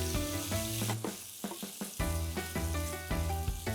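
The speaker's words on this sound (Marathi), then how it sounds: "हे जे पनीर आहे ते थोडंसं सोटे करून घेणार आहे" Paneer sautés in hot oil with a loud, close, steady sizzle, broken by a few stirring strokes and brief dips.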